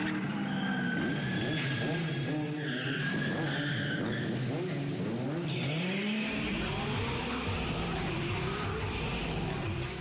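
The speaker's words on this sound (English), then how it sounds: "The Corvette was almost scraping the walls, and I was losing it." A Corvette skids and squeals its tires inside a warehouse, engine revving hard as the rubber screeches and the sound swoops up and down, loud and continuous with reverberant echo off the walls.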